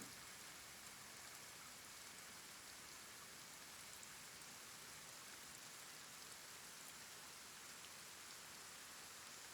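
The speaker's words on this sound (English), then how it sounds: "Rain's a bit light as well." Light rain falls steadily in the video game Kenshi as a soft, even hiss of drops that stays constant and faint throughout.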